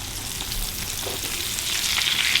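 Battered green tomatoes, zucchini and yellow squash fry in hot oil, a dense, continuous crackling hiss close by that swells slightly louder toward the end, with no voices over it.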